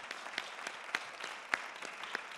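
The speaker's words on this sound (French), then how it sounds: "On peut applaudir Gilles" A panel audience at a media conference applauds a speaker, giving faint, distant clapping with a few sharper individual claps standing out at a loose rhythm.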